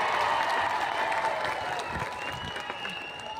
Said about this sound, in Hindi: प्रताप राव पाटिल जी के लिए जोर से ताली बजाइए सभी लोग